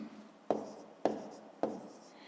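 A pen or pencil writes numbers by hand on paper during a fifth-grade maths exercise, giving three sharp scratchy strokes at a steady pace, each trailing off into a soft rasp, close and clear with no talk.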